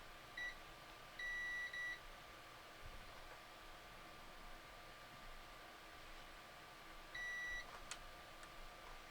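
Multimeter continuity beeps while probing the power switch of a Game Boy Advance AGB-001: a short tone, a longer double beep, then another after a pause, clean electronic pitch over faint room hiss.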